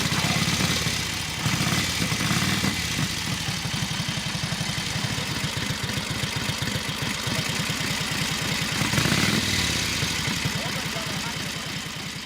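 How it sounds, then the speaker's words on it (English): Polish-made Sokol motorcycle engine running steadily, a low rhythmic idle-like thump with a brief rev swell midway, close and continuous throughout, with faint voices in the background. "So Bartek's motorcycle is a Sokol"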